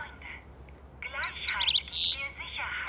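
Small cartoon bird in My Little Pony chirping and tweeting in quick bright bursts over a low background hum.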